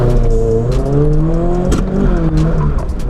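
A Toyota 86 on an autocross run roars loudly and continuously, its engine pitch rising and falling through shifts, with tire squeal and the rush of wind from inside the car.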